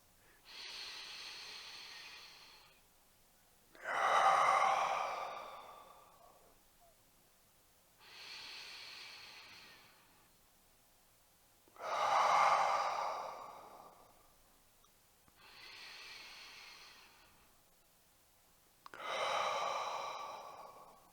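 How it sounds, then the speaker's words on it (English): Three slow, deep breaths taken during a guided heart-centred meditation, each a soft inhale followed by a louder, longer exhale, evenly spaced and close with no talking. "let's just take 3 deep breaths."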